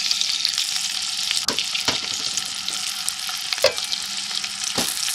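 Leftover rice frying in hot oil in a pan, a steady close sizzle with a few sharp stirring scrapes and clicks throughout.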